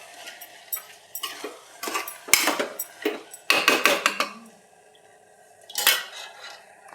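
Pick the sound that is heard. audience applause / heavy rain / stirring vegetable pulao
stirring vegetable pulao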